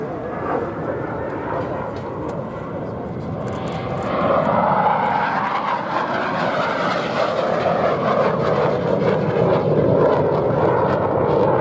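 A Hawker Hunter T7 jet flying a display at the Duxford Airshow in the UK gives a loud, sustained roaring rush that swells as it passes, with a commentator's voice faintly underneath.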